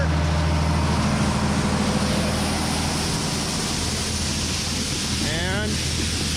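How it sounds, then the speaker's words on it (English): Corn pours through a grain auger in a loud, steady rushing hiss that never lets up, with a brief warbling tone rising over it near the end. "You can hear I already had corn in the auger."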